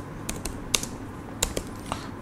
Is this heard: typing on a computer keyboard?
yes